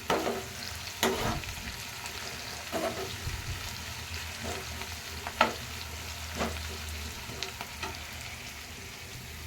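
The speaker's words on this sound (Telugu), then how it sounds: "ఇదైతే ఫ్రై అవుతుందండి ఆనియన్" Onion frying in oil for egg curry, a low, steady sizzle broken by occasional sharper crackles and scraping stirs, close by with no speech.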